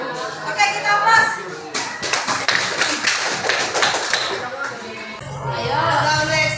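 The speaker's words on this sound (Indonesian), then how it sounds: "Oke, kita aplaus." A classroom audience applauding after a presentation, a brisk patter of many hands clapping for several seconds, with voices before and after the applause.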